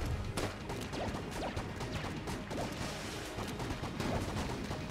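Rapid gunfire and bursting explosions from the top-down dungeon shooter Enter the Gungeon, a dense, continuous barrage of blasts and crashes with no talk.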